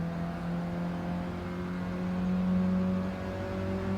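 Race car engine in Gran Turismo 7 held at full throttle, a steady droning whine with a slowly rising pitch, continuous and loud with no talk over it.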